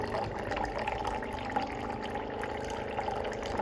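Water runs steadily through an Electrolux Aqua Plus purifier after a filter change, a continuous close pouring flow with no talk over it.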